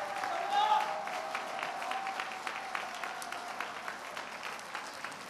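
A graduation ceremony audience gives moderate, steady applause with distinct individual claps, while a voice speaks briefly over the start.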